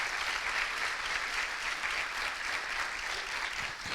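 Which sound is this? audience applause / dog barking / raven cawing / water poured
audience applause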